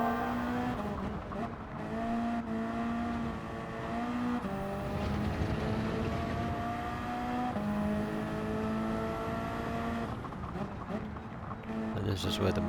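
A Mustang race car roars down the straight at Brands Hatch in Gran Turismo 7, its engine note climbing steadily through the gears with sharp shift drops, loud and continuous, with a voice talking over it.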